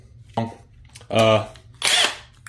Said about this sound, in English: I'm going to go ahead and drill these shock towers out